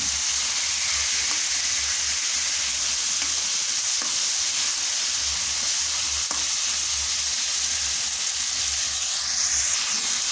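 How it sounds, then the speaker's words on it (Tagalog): Marinated pork fries in a pan over a strong flame, giving a loud, continuous sizzle and hiss without a break and with no voices. "kasi pag minarinate natin yung karne, yung pork natin, hindi magtitilamsik yung pag piniprito natin ng ganito"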